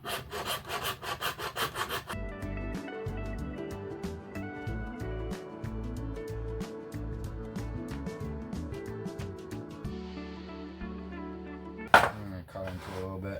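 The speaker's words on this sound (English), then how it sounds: "So I'm gonna take a file and kind of chamfer that in." A hand file works a chamfer into a part for an RC4WD Chevy Scottsdale scale RC truck build, close rhythmic rasping strokes that run steadily, with a sharp knock near the end.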